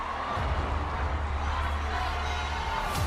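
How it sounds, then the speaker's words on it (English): A large AGT Champions audience screams and cheers for Marcelito Pomoy during the 2020 semi-final results, a loud, continuous roar of crowd noise filling the whole moment. "You can hear the crowd."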